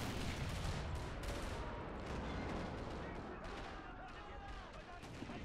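Artillery and gunfire in a First World War battle game set at Beaumont-Hamel, dense overlapping booms and rattling shots rolling continuously at a distance, with a voice talking over them.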